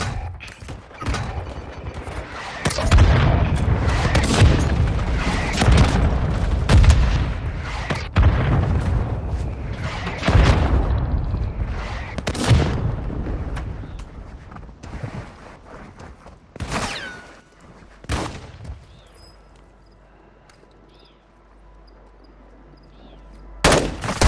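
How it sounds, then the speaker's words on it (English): Mortar strike explosions and rapid gunfire in the mobile shooter Warzone Mobile on Rebirth Island, a dense run of loud booms and bursts through most of the stretch, thinning out near the end with a few isolated blasts. "Friendly mortar strike inbound."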